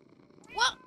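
Cat in the Minecraft video game giving a short purring meow, a single soft rising call lasting under half a second after a quiet start.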